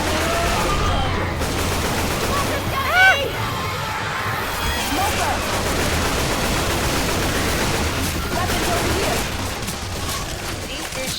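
Constant crackling gunfire and explosions from a zombie shooter video game, dense and noisy throughout, with a player's voice talking over it.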